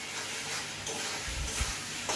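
Chicken cooks in a pan for a home lunch, giving a continuous sizzle and frying hiss with a few scraping stirs of the spatula toward the end.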